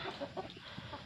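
Chickens and a native rooster clucking softly in a farm yard, a few short close clucks over a quiet background.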